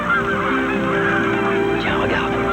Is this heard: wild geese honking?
yes